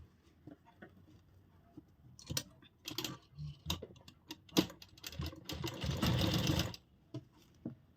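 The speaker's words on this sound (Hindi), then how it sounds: "और इस तरफ भी हम सिलाई लगा लेंगे।" A sewing machine stitches lace onto an angrakha-pattern umbrella frock. Short ticking bursts of stitching come first, then a longer steady run of about a second, all close and clear.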